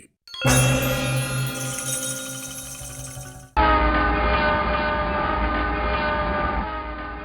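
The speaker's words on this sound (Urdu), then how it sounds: "یہ ہے میلسی ریلوے اسٹیشن جو تقریباً 100 برسوں سے یہیں واقع ہے" Trains at Mailsi railway station, a roughly century-old stop, sound loud and close: a strong horn or whistle blast gives way to a steady, heavy rumble of rolling stock that runs to the end, with no talk.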